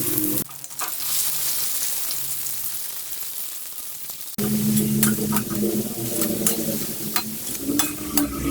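Breadfruit (sukun) sizzles steadily in hot oil in a pan, a dense crackling hiss that jumps louder midway as more pieces go in, with no talk.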